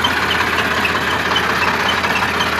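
A 2013 Sonalika DI-35 tractor, 39 horsepower and in side gear without power steering, idles steadily with a loud, even diesel drone that holds unbroken and close throughout.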